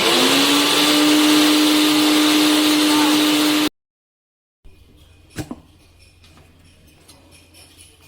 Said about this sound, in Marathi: मिक्सरला फिरवून घेऊया.